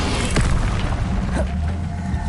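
The Incendio fire spell is cast in Hogwarts Legacy, a loud close burst with a deep boom that swells and rumbles briefly before fading into a crackling roar.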